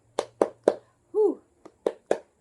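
Kindergarten children at school perform a rhythmic clapping chant: three crisp claps, a short voiced shout, then a light tap and two more claps, close and clear in a quiet room.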